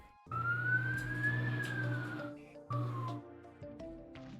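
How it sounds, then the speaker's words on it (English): An emergency siren wails outside a house, rising and falling in long sweeping tones before cutting off and restarting in shorter bursts, heard faintly through walls and not very close. "What is with the sirens outside of my house?"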